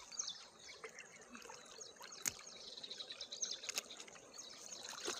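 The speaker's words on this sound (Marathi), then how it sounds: "तर आम्ही ना इथे घास लावलाय शेतात मध्ये बघू शकता आणि पाणी आता मी पाणी देणार आहे घासाला." Water running from a pipe onto planted grass in a farm field, a faint continuous trickling stream with small splashes, heard outdoors at a distance with a few bird sounds.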